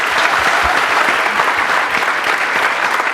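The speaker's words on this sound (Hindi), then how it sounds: "Big round of applause for both of them." Audience applause at a fun science show, steady dense clapping from a crowd sustained loudly throughout with no talking.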